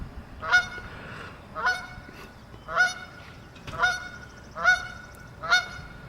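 A goose honks repeatedly outdoors in the morning, six loud, close calls at a steady rhythm of roughly one per second with quiet gaps between.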